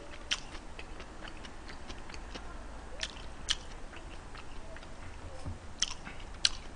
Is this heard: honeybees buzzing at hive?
no